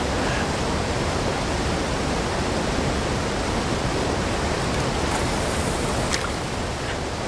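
Close and constant, the cascade of a waterfall in the angling game Call of the Wild: The Angler hisses and rumbles without pause, with only faint, fleeting higher noises near the end.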